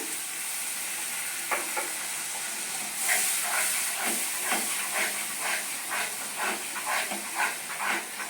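Dry, well-fried spice paste for a paneer dish made without onion or garlic gets a splash of water, giving a steady close hiss and steaming sizzle with scattered spoon scrapes and taps as it is stirred.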